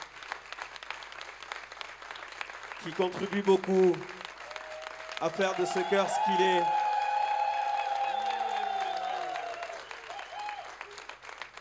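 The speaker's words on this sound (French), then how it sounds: "je vais vous demander de l'applaudir très fort, s'il vous plaît" Audience applause at a live choir concert, a broad wash of clapping that swells and holds for several seconds after someone speaks over a microphone, with his voice continuing faintly under it.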